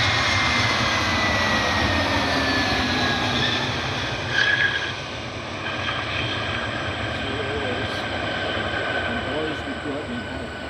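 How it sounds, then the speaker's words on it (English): Frontier Airlines Airbus A321-200 airliner arriving, a loud broadband jet engine roar and rumble held steady throughout, slightly easing toward the end. "Frontier Airlines 3091 inbound from LaGuardia. A321-200."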